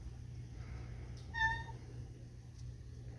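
A house cat gives a single short meow, clear but fairly soft, over a low steady background hum in an indoor room.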